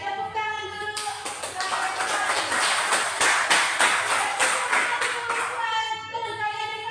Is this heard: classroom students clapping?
yes